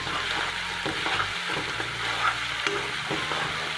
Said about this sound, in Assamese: পিঁয়াজ অলপ অলপ ৰঙচুৱা হৈ আহিছে।